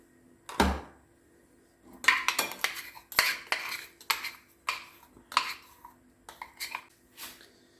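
A spoon stirs crushed garlic into mashed fava beans with tahini for a Syrian ful breakfast, making repeated close clinks and scrapes against the bowl in an irregular rhythm, with no talking.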